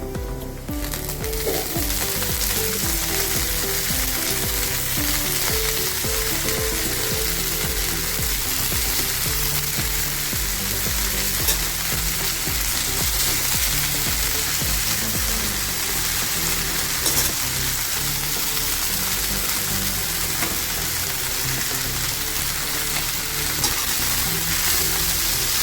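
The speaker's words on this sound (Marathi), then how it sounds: "चांगली परतून घ्यायची।" Chopped red amaranth leaves sautéed with onion in a hot pan, a loud continuous sizzle with stirring scrapes throughout.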